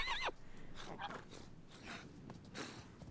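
A short, high wavering horse whinny in a god-simulation video game opens the clip, followed by faint soft game sounds and some murmured noise.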